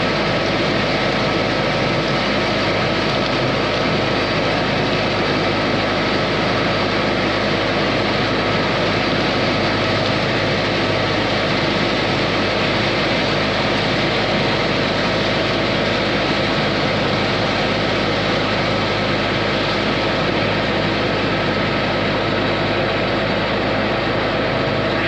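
A high-pressure drain jetter runs continuously while clearing urinal scale from an office and warehouse drain, a loud, steady rushing drone with no pauses or talk.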